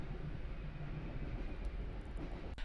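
Passenger train travelling between Los Angeles and San Diego, a steady low rumble of wheels and carriage noise throughout, with a brief sharper knock near the end.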